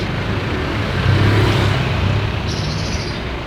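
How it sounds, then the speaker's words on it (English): Road traffic on a busy city street in Marikina, Philippines, with cars and other vehicles passing close by in a steady, loud rumble that swells briefly as one vehicle goes by. "So much cars."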